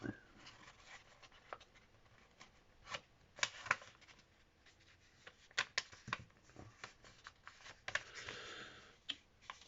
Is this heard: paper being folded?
yes